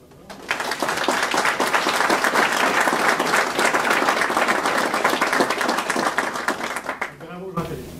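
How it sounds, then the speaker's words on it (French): An applause sound effect plays at a provincial Ambulance St-John leadership handover: a dense burst of many hands clapping that swells quickly, holds steadily for several seconds, then cuts off abruptly. "On met l'applaudissement, même si c'est pas là."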